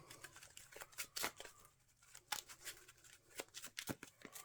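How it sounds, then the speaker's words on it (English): Card shuffling for a Marvel Champions game, a run of quick crisp riffling bursts and soft card slaps repeating close up with brief pauses between. "Let's give Jugs a shuffle. Then we'll give me a shuffle."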